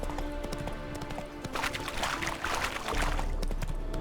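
Horse hooves clop steadily at a walking pace over a rumbling background in the video game The Witcher 3, with a muffled voice faintly underneath.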